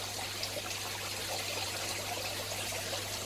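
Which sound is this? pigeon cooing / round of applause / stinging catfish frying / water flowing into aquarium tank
water flowing into aquarium tank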